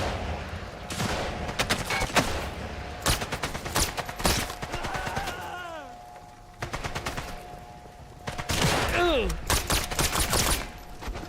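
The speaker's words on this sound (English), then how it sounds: "We're in a pretty good firefight right now." Rapid gunfire bursts crack through a firefight in Sniper Elite: Resistance, with clustered volleys and single shots spread across the stretch, alongside sustained tones and falling whistle-like sweeps.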